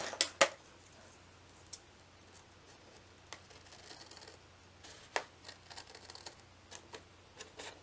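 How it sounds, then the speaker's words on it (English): Scissors cutting excess paper off a cardstock paper drawer project, a few sharp snips and scattered faint clicks spread apart over a quiet background. "And then once you have that done, you can cut the excess paper off."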